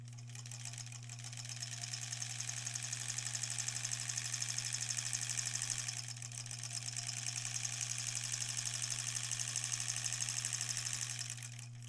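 A sewing machine piecing quilt scraps runs in a continuous fast, even stitching rattle over a steady motor hum, with a brief dip midway before resuming at the same pace.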